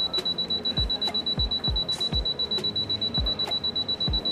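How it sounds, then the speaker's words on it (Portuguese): An Attiv UPS battery alarm: a steady high-pitched electronic tone sounds continuously, overlaid with regular soft clicking pulses, repeating evenly throughout. "O LED amarelo e o vermelho piscam e o alarme sonoro é ativado"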